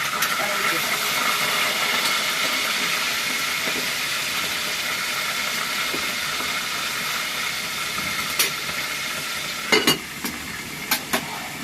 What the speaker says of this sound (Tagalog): Ayan, walang talsik yung ating piniprito.